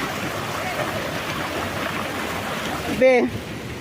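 A steady roar of falling water at Polluru waterfalls near Motugudem, on the Andhra Pradesh–Odisha border, fills the scene, with a brief sharp voice-like cry cutting through near the end.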